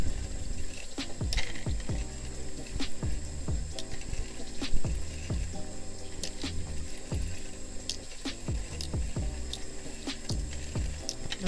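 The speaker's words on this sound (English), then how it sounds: "I'm just individually going through all the tubes and rinsing them out with water." Water runs and drips while small plastic lip gloss tubes are rinsed one by one in a bowl, with steady clicks, taps and squishy splashes close by.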